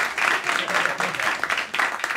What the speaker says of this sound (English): Were you clapping for me?